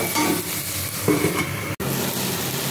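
Spice masala with a splash of water is stirred in a hot pan, a loud close sizzle with scraping strokes of the spoon and one brief clink partway through.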